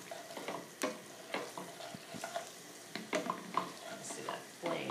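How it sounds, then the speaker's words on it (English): Ground meat and onions frying in oil in a pan, a soft continuous sizzle broken by repeated scraping stirs, close and fairly quiet, with no talking. "the meat's cooking up, and the oil from the meat is cooking up your onions too"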